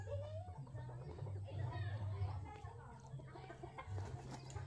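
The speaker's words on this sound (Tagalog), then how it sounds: "Daming manok." A flock of chickens clucks and murmurs outdoors near a farm hut, faint and layered over a steady low rumble, with occasional soft voices in the background.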